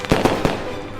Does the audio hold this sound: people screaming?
no